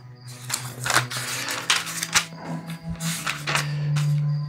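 Thin Bible pages being turned while looking up the Gospel of Mark, a series of light papery rustles and flicks close by with a faint steady hum beneath.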